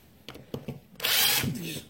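A few soft clicks and knocks, then a power drill whirs in one short burst of about half a second before winding down, fairly close.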